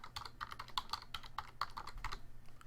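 Quick keystrokes on a computer keyboard, a close run of light clicking taps in an uneven typing rhythm over a quiet room hum.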